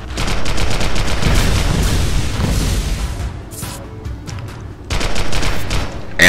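Rapid video-game gunfire aimed at a turret in Global Agenda: loud sustained automatic bursts up close, a brief lull, then another stream of rapid shots.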